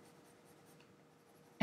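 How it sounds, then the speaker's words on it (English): A pencil pressed hard against paper while shading deep dark areas of a shoe drawing: a faint, steady scratchy rasp that runs throughout, ending in a sudden loud bump. "Then I'm going to want to take my pencil and really dig in there"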